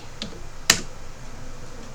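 A short search for an Indian visa is typed on a phone app: one faint tap, then a single crisp, louder tap, close and isolated over quiet room tone.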